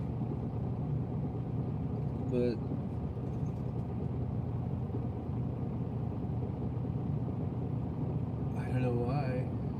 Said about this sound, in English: But this other Schneider truck just pulled up next to me.